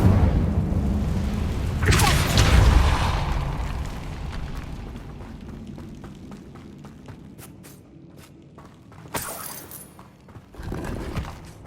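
The Incendio fire spell cast in the Hogwarts Legacy video game, heard as a loud whooshing burst of flame followed by fading crackle, then two further shorter fiery bursts later on.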